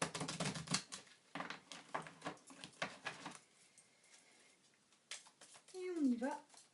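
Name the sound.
shuffling tarot cards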